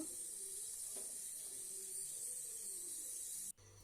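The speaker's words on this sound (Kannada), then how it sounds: "ಗ್ಯಾಸ್ನಲ್ಲಿ ಸ್ವಲ್ಪ ಹೊತ್ತು ಫ್ರೈ ಮಾಡಿಕೊಳ್ಳುವ ಒಂದು ಎರಡು ನಿಮಿಷ ಫ್ರೈ ಮಾಡಿಕೊಂಡ್ರೆ ಸಾಕಾಗತ್ತೆ ನೋಡಿ ಈ ರೀತಿಯಾಗಿ ಫ್ರೈ ಮಾಡಿಕೊಳ್ಬೇಕು" Corn kernels fry on a gas stove with a steady, bright sizzling hiss that holds level throughout, then cuts off abruptly near the end. No talking is heard.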